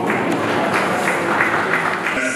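A wedding congregation inside a church breaks into steady, dense applause, many hands clapping together at a loud, even level for the whole moment.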